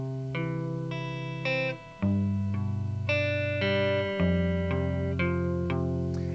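Guitar plays the three chords of a song in sequence, sustained ringing chords with clear attacks and some effects coloring, changing roughly every second or two, alone without talk.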